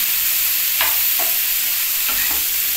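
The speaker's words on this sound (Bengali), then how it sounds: "এটা আস্তে আস্তে বেশ ভাজা হবে আর মশলাগুলো গায়ের সঙ্গে লেগে যাবে" Spices fry in hot oil in a pan for a sesame okra dish, making a loud, dense, even sizzle. Two or three soft spatula scrapes are heard, with no voices.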